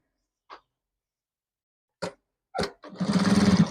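A sewing machine stitching elastic into palazzo pants gives a few isolated clicks and taps, then starts up into a steady, rapid, rhythmic needle chatter that runs to the end.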